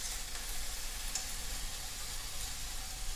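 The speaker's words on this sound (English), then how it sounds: "You hear that sizzle?" Bacon-wrapped chicken with turkey bacon sizzling on a grill after being flipped, a dense steady crackling hiss throughout, close and fairly loud, with no voices.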